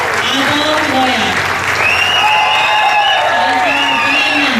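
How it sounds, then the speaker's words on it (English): A large commencement crowd applauds magna cum laude graduates at the 2015 CMI ceremony, with continuous clapping mixed with cheers, whoops and shouting voices throughout. "for everybody to give them a big applause for magna cum laude"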